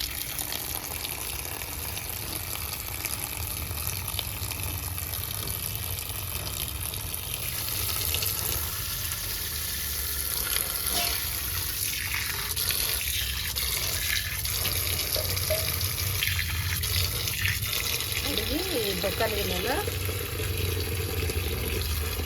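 Tap water runs in a steady hiss over gongura leaves being washed in a sink, with faint splashes and rustling as handfuls are rinsed. No one speaks.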